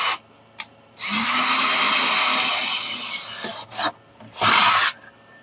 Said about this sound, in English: Actually, I might be better off drilling it from the inside.